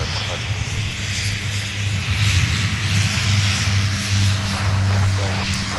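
An airliner rumbles on the south parallel runway at Minneapolis–Saint Paul airport, a loud, steady engine roar that swells slightly midway. Speech can be heard along with it.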